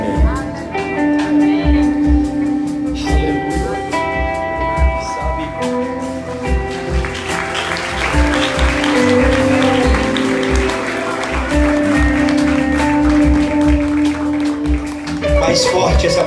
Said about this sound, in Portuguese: Mais forte esse aplauso, por favor.